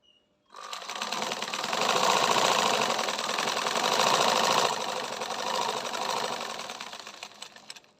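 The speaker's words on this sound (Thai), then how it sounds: "ผ้ากีฬาเด็กนี่เย็บยากนะ ครับ เย็บยากมาก" A black-head sewing machine stitches children's sportswear fabric, running in one loud, steady whirring burst of about seven seconds with a fast mechanical rattle and no talking.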